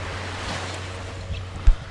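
Waves breaking on the shore of a Gulf Coast island, a soft steady wash of surf with a gusty rumble and one brief thump near the end.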